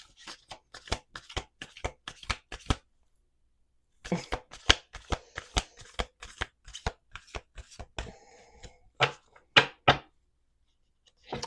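Rapid riffle-shuffling of playing cards in repeated bursts of crisp flicking clicks, with short pauses between shuffles, close up and fairly loud.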